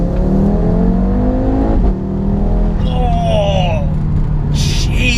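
A 500 BHP Audi RS3 8P accelerates hard in second gear, its engine note rising loud and close from inside the car before a brief dip, with a voice speaking over it.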